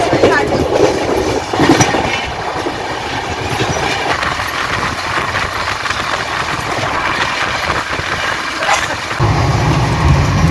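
The Duranta Express (12245, Kolkata to SMVP Bengaluru) runs on the rails past Kharagpur, heard from inside as a loud, continuous rumble with rhythmic clickety-clack over the track joints.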